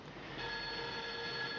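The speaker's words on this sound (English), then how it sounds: "Yeah, I have to answer a phone call now," A telephone rings steadily, a faint sustained electronic trill that continues through the whole stretch with no talking.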